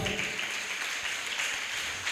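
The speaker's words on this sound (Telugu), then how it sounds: "చప్పట్లు కొడదాం" A church congregation applauds during a pastor's sermon with a brief, steady wash of clapping from many hands in a reverberant hall, moderately loud and without talk.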